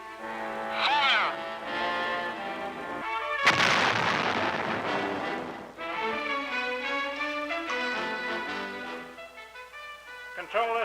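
A WWII-era tank main gun fires at a target in a military training setting, producing a single loud broadband blast that rings out amid music, followed by a decaying rumble.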